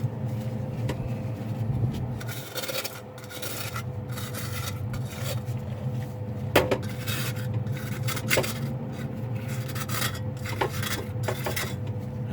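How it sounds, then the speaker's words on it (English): Pure silver crystals being scraped off with a plastic squeegee, a close, steady rasping scrape with repeated strokes and small clinks, going on alone without talk. "It feels good to scrape these crystals off."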